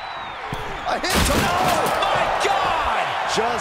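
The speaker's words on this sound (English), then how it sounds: "Just an absolute eruption of the table. It turned that table into kindling." A wrestler crashes through a table during a falls-count-anywhere pro wrestling match. One loud, heavy impact breaks out over a roaring arena crowd, and the crowd noise stays loud afterward.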